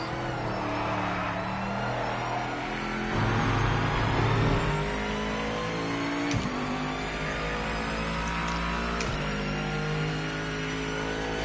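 A GT3 Aston Martin race car engine in a racing video game roars steadily at high revs, close and loud throughout with brief gear-change dips and continuous whirring drive noise.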